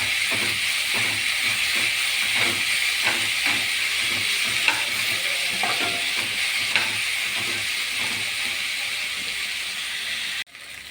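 Broken wheat and semolina sautéing in a pan for upma, with a steady hiss and sizzle and soft scraping stirs, continuous and close until a brief dip near the end.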